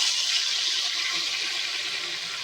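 Betel leaf juice is poured into heating oil and sizzles with a steady, loud hiss throughout, with no talking.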